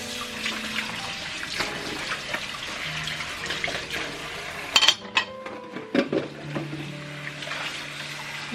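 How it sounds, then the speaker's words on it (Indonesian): Hot water pours from a kitchen tap to rinse dishes in a home sink, running steadily in the background while plates and cutlery clink and clatter sharply near the end. "Ini jadi bilasin pakai air panas ya."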